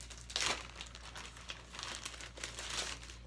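A plastic packaging bag that gymnastics grips came in crinkles and rustles up close as it is handled and opened, with a sharp burst at the start followed by continuous softer crackling, without speech.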